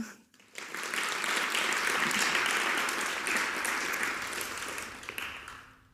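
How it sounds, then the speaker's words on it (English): A warm round of applause greets a documentary filmmaker at a film talk event, rising quickly, holding full and dense, then tapering near the end. "just welcome him with a little bit of applause"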